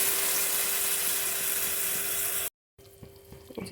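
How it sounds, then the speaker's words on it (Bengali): Tengra fish simmering in a thin, watery broth makes a dense, steady bubbling hiss up close. It cuts out briefly, then returns quieter with a few soft clinks. "একটু সিদ্ধ হয়ে যাক মাছগুলি"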